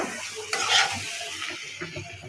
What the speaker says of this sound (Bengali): এই যে আলুগুলো লাল লাল করে ভাজে নিচ্ছে